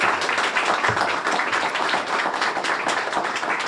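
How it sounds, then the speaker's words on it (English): Sustained audience applause at a ribbon cutting ceremony for a career center, dense steady clapping filling the room throughout with no talk over it. "Please, again, another round of applause."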